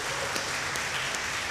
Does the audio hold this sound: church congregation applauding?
yes